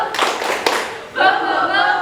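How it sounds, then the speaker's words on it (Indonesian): A classroom group does a rhythmic spirit clap, a short run of quick claps, and then voices shout in unison. "Tepuk semangat."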